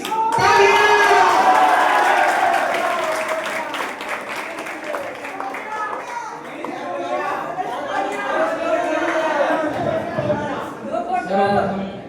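Audience applause at a Teachers Day event at a Patna coaching institute, a dense burst of clapping with crowd chatter and voices continuing underneath as it thins out.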